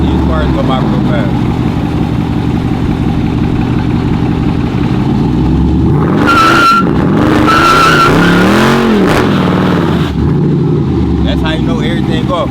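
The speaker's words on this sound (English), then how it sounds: "When you spin it like that, the back wheel's only spinning, the front ain't." SRT Jeep spinning its rear wheels, engine revving over a rising tire squeal and skid that peaks midway, with the engine droning loudly throughout.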